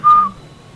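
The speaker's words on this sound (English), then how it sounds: "So here the source of sound is whistle." A single short whistle blast, loud and steady with a clear pure tone, cutting off quickly into quiet room hum.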